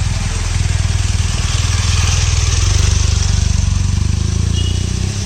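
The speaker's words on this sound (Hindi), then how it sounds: "अभी इसको थोड़ा गर्म होने देते हैं बाइक को" A BMW R1250 GS Adventure motorcycle idles to warm up, its engine thumping in a steady, rapid pulse that stays loud and close, with a slight swell midway.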